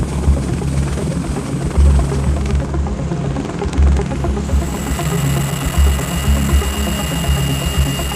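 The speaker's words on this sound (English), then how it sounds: "Marines will often utilize the UH-1Y Venom, a medium-sized utility helicopter manufactured by the Bell Company." Bell UH-1Y Venom medium utility helicopter in flight, a loud, close, continuous rotor thump with turbine whine, steady throughout and with no voices.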